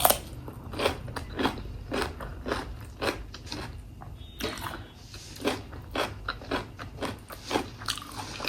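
Nan kuyrdak, fried meat wrapped in bread, is eaten by hand close to the microphone, with steady rhythmic crunchy bites and chewing repeating throughout and no talking.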